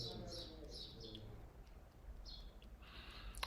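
Birds chirp outdoors in short, bright bursts, a few calls early on and another cluster near the end, fairly faint over a steady low ambient background with no talking.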